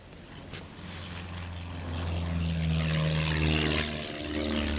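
A propeller airplane passes overhead, its engine drone rising from a moderate hum to a loud, rough roar at its closest, then easing slightly as it moves on, with no voices.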